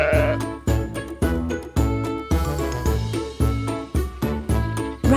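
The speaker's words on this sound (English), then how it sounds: "Sheep." A sheep bleats repeatedly in quick, loud, wavering calls, close up, one after another with barely any pause.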